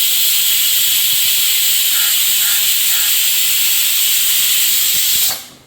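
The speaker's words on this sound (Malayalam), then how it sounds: "നമ്മളെ കുക്കർ ഇപ്പോൾ ഇവിടെ വിസിലടിയാനായിട്ടുണ്ട്" A pressure cooker whistles with a loud, continuous hiss of escaping steam that holds steady for several seconds and then suddenly dies away.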